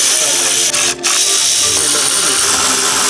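A ratchet tightens a new bolt on the pulley of a Toyota Supra engine with rapid, close, continuous clicking and a brief pause partway through.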